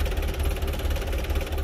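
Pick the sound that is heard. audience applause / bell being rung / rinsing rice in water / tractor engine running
tractor engine running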